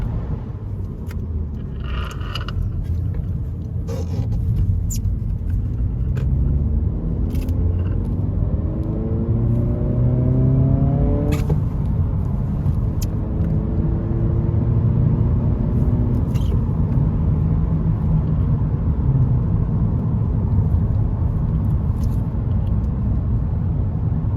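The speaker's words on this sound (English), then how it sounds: "Still can tell there's a little bit of that fake engine noise being put into the cabin." Steady low cabin rumble with an artificial engine tone rising in pitch, fading, then rising again, heard from inside a moving 2022 Honda Civic Si at about 58 mph; no talking.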